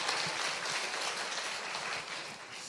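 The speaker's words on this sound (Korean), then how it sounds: "박수로 한번 맞아주시죠." An audience at a school academic festival gives a steady wash of applause, fairly distant and even throughout, with no talking.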